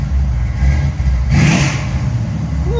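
Loud, close burst of a 1966 Chevy Chevelle SS 498 V8 with headers and Flowmaster 40 exhaust, a quick throttle blip rising from a throaty idle and falling back.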